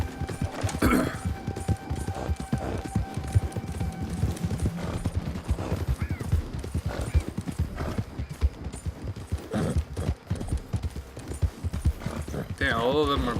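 Galloping horse hooves in the video game Red Dead Redemption 2 Online: rapid, rhythmic clip-clop beats close by throughout, with a horse neighing briefly and people talking over the hoofbeats.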